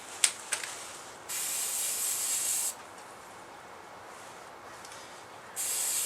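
A spray paint can hisses in two sustained bursts, then a third short one, coating a homemade survival stove nearby, with quiet pauses between bursts.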